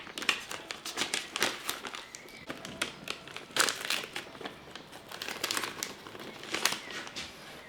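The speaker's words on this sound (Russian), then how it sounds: "каждый пакет мы протыкаем вот такими крючками" Plastic bags being pierced with hooks, two per bag, while preparing beef steak for solar sous vide: repeated close crinkling and crackling plastic bursts in an irregular rhythm, moderately loud and with no talking.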